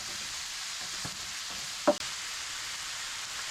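Ground pork and beef fry in a pot for chili with a faint, steady sizzle and a few soft scrapes and clicks of a utensil stirring, quiet and close.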